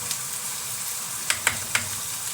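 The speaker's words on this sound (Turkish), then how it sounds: "Tereyağında lezzet tatsın. Bu esnada şöyle bir tatlı kaşığı kadar biber salçası ekliyorum." Pepper paste sizzles in melted butter in a frying pan, a close, even crackle broken by a few sharp clicks from stirring.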